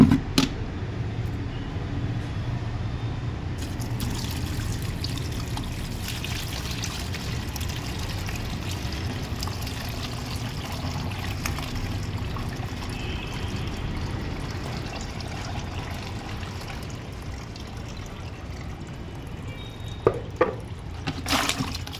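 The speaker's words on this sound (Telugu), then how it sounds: "దీన్ని ఇప్పుడు మనం వడబోసుకుందామండి." Jaggery-diluted water being strained for use as plant fertilizer, a steady soft pouring and trickling wash running continuously near the listener, ending with a few light knocks and drips.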